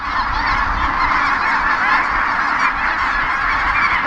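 A flock of geese honks steadily at an eastern Oregon cattle ranch on the Pacific Flyway, a dense, continuous chorus of overlapping calls that stays loud and close throughout with no talking.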